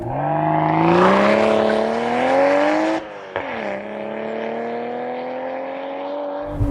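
A 2025 BMW Z4 M40i roadster with a 3-liter turbocharged B58 inline-six and six-speed manual accelerating hard, loud rising engine note, a brief dip at a gear change, then climbing again from inside the car.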